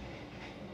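Argo Wilis 2018-series stainless steel executive train running on rails, a brief steady rumble heard from inside the carriage with a dense low roar and no voices.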